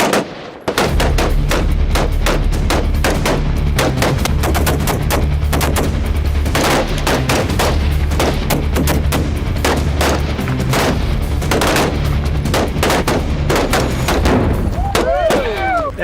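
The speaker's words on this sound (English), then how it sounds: "I hit one of them Tannerite canisters out there" A rifle fitted with iron sights, no scope, fires outdoors at Tannerite canisters: loud, sharp reports and heavy booms repeat rapidly and irregularly for about fifteen seconds.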